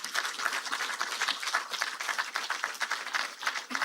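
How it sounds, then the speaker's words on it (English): A crowd applauds the Honorable Minister of Finance of Nigeria at a formal event, with dense, steady clapping that continues throughout without pause. "I think we can do better with that round of applause for the Honorable Minister of Finance and Coordinated Minister of the Economy."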